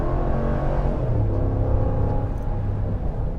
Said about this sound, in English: As soon as you touch that gas pedal, like I'm doing right now.